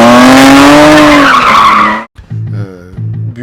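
A loud, close tire squeal and skid from a car chase in the action film Ronin sweeps on for about two seconds, then cuts off abruptly and gives way to quieter engine and tonal sounds.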